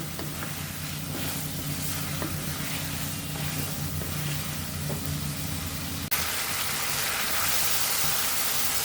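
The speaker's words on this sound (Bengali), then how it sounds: "এটা ভালোভাবে আগে কষায় নেব।" Cauliflower and eggplant are sautéed together in a pan, giving a loud, continuous sizzle with stirring scrapes; partway through, the sizzle abruptly swells brighter and stronger.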